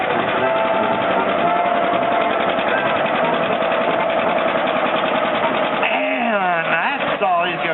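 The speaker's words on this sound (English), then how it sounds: "1958 John Deere 530. Pretty tractor." A 1958 John Deere 530 tractor engine drones steadily and loudly at a tractor pull, holding a continuous mechanical roar before shifting near the end as the load changes; an announcer talks over it.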